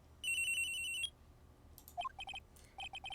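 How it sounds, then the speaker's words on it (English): A phone rings in the Ace Attorney video game in Phoenix Wright's bedroom: a steady electronic trill, a short pause, then a run of chirpy beeping tones, fairly faint and alone. "His phone do be ringing."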